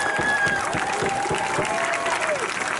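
A crowd at an outdoor protest rally against police union leadership applauds and cheers, a dense steady patter of clapping held at even loudness, with whoops and voices mixed in throughout.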